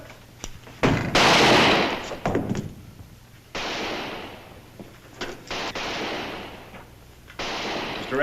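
Gunfire in a Western shootout: loud, close shots and short bursts ring out in irregular clusters, with gaps between volleys and no voices over the firing.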